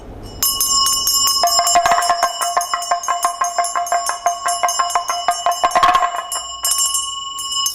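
A ritual bell rung to open a Dakini dance practice rings out loudly with shimmering overtones, struck again and again in a steady pulse of about two strikes per second and sustained across the whole passage.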